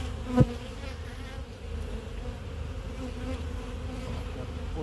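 A steady, close hum of honeybees buzzing at an open hive, with a short louder bump near the start and a continuous droning layer throughout.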